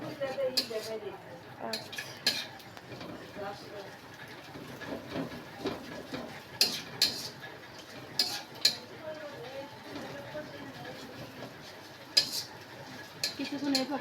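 An egg is fried and stirred in a pan, breaking into crumbs, with soft scraping and clinking of a utensil against metal over a faint sizzle. Sharp clicks recur irregularly at low overall volume.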